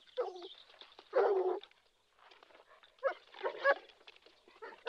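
Dogs barking in short, scattered bursts, some sharp and some yelping, with quiet gaps between them, heard fairly close at night in a rural scarecrow horror film.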